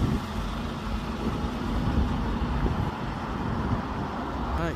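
Alexander Dennis Enviro 400 Scania bus in Gloucester, its engine a steady low rumble with continuous traffic noise, fairly close and even in level throughout.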